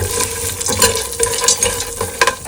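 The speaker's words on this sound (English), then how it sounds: "Add peanuts, cashews, almonds, and these dry roasted coconuts. Just mix it well in about 1 tablespoon of oil." Peanuts, cashews, almonds and dry roasted coconut being stirred in about a tablespoon of oil in a pan, giving a steady close sizzle with scraping and clattering stir strokes throughout.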